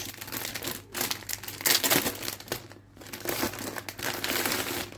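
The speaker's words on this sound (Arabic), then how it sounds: "ده شكل الكيس بتاع الاسبونشه اهو، مكتوب عليه ستيل، ستانلس ستيل" A plastic bag holding a stainless steel scouring sponge crinkles and crackles up close in steady bursts for several seconds, with a short pause partway through and no talking.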